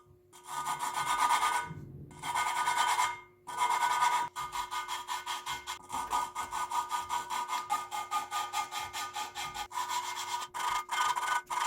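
Engine valves of a Yamaha XJ1100 being lapped by hand with valve lapping compound, a close, gritty rubbing that comes in short bursts, then settles into a steady back-and-forth scraping rhythm.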